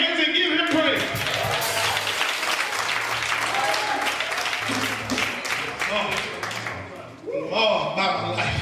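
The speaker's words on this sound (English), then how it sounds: "Clap your hands and give him praise" A Baptist church congregation claps in praise, a dense sustained round of many hands mixed with shouting voices and crowd noise. The sound is strong throughout, dips briefly, and then swells again.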